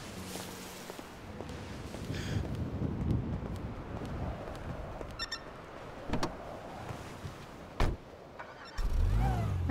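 A car creeps slowly while parking in a video game, a low steady engine rumble with wind-like hiss. Occasional soft thumps and clicks break in, and a louder burst of noise rises at the very end.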